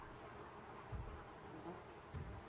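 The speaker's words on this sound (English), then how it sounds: "It sounds like bees. Oh, it's flies." Flies buzz in the zombie survival video game Project Zomboid, a faint, continuous insect drone with a few soft low thumps, heard alone with no talking.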